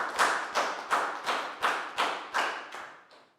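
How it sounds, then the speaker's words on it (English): Nine sharp, evenly spaced claps ring out in a classroom, close and distinct, about two per second, fading slightly at the end with no talking. "Round of applause."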